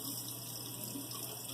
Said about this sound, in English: turn the faucet on with your hand or use a foot control to start the flow of warm water